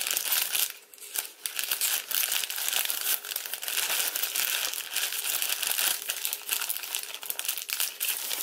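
Paper being folded and creased for an origami Ancient Dragon, with steady close crinkling and crumpling that runs throughout, dense layers rustling continuously with brief pauses.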